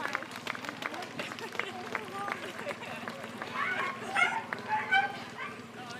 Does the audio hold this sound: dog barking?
yes